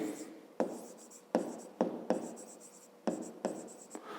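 Handwriting a fifth-grade math solution: a pen scratches across paper in short, rhythmic strokes with brief pauses between them, close and quiet.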